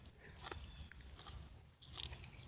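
Raw wild leeks (ramps) being chewed close up, a few crisp bites followed by soft wet crunching at low volume, with no talk.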